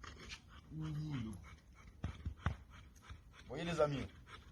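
An American Bully dog pants and whimpers just after its muzzle comes off, with soft breathy panting and a few short whining bursts close by, mixed with someone talking.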